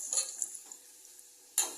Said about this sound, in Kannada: ಅರಿಶಿಣ ಪುಡಿ ಹಾಕೋಣ, ಮಿಕ್ಸ್ ಮಾಡೋಣ.